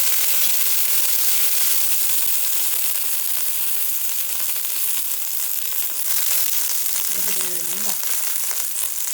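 Constant crackling and sizzling of dried red chillies and curry leaves frying in hot oil with popped mustard seeds fills the clip, with a brief faint voice near the end.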